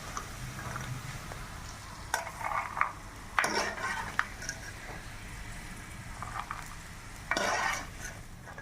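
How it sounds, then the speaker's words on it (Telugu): Peanuts and cashews being dry-roasted in a pan, with scattered scraping stirs and clinks of a spoon at close range, brief louder bursts around two, three and seven seconds over a quiet background. "పల్లీలు జీడిపప్పు వేయించి పక్కన పెట్టుకుందాం"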